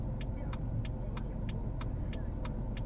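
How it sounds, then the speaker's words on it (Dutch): Car engine pulling away during a driving exam lesson, heard from inside the cabin as a steady, close low rumble with an even ticking repeating about every half second and no talking. "Wees niet bang om bij het wegrijden je gas te horen."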